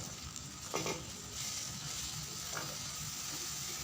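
Ginger, garlic and onion paste sizzles steadily in a hot pan, a continuous broadband fry with a couple of brief scraping stirs, close and moderately loud with no talking.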